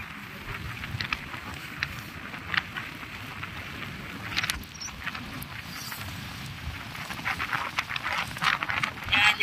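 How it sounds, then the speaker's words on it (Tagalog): Strong wind gusting on a rainy outing near Balete Gate, a steady broadband roar with rushing and buffeting, fairly loud and continuous throughout with no talk. "malakas ang hangin"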